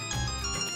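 A phone ringtone sounds for an incoming call, a steady electronic melody ringing alone without any voices.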